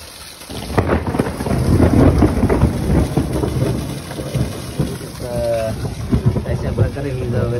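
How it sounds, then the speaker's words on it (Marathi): Thunder rumbles heavily over rain at Raigad Fort during the monsoon, a loud deep rolling crash early on that gradually fades, with steady rain texture underneath and a voice speaking briefly toward the end. "अशा प्रकारे विजा वगैरे कडकत आहेत"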